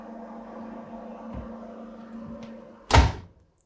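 A microwave oven humming steadily while heating sugar syrup in a bowl, then its door pops open with a loud clunk followed by a brief rattle.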